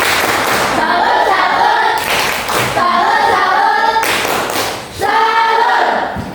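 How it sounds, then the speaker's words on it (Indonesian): A classroom group claps together to honor a presenting group, giving loud, rhythmic bursts of hand claps in a patterned cheer with brief pauses between the sets. "kita berikan tepuk salut buat kelompok 3. Tepuk salut."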